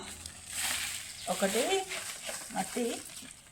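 Hands mixing potting soil for indoor plants, a dry gritty rustle and crunch that swells and fades with each stir, with a few brief murmured vocal sounds in the middle.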